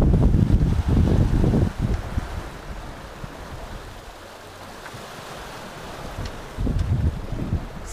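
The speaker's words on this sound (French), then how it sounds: "là j'ai encore un peu de vent" Wind blows across a sailboat at sea during an Atlantic crossing, strong rumbling gusts buffeting the microphone in bursts at the start and end, with a steady hiss of wind and water between them.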